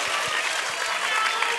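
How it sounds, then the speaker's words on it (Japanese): An audience at a film premiere launch event claps steadily, dense, bright applause sustained from start to finish with a few sharp, close hand claps standing out. "皆さん大きな拍手をお送りください。"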